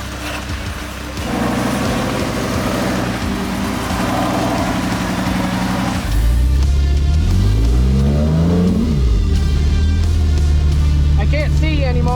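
A Jeep JKU rock crawler called Ice Bear revs its engine on a rock trail in Sand Hollow, a steady loud engine drone rising and sweeping in pitch, with voices talking over it.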